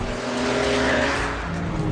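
An Audi TT Mk2 3.2 and a BMW Z4 3.0 launch off the line together, a loud, steady roar of revving engines with possible tire noise, close and continuous for a couple of seconds.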